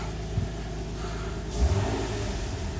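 Nissan VQ35DE V6 after a timing chain repair, its exhaust note a steady low drone with a slight swell partway through, heard close and continuous with no talk.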